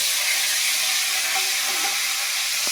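Bay leaf and chilli frying in hot oil alongside fish, a dense continuous sizzle with faint crackles and a small clink near the end, no voices.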